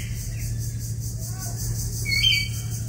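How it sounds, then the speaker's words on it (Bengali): A myna calls at Bangladesh National Zoo, giving one brief bright whistled note near the end, with a few faint chirps earlier, all over a steady low background hum. "কথা বলা এক মজার পাখির নাম ময়না"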